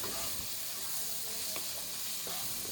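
Potatoes frying in a spice paste in a pan give a steady hiss with a few faint stirring scrapes, close and constant, without talk.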